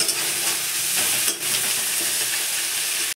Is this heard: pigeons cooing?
no